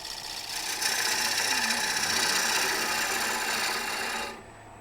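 A bowl gouge cutting a wooden bowl on a lathe, taking light passes: a continuous close rasping, scraping hiss that holds steady for several seconds, then drops away abruptly to a quieter hum.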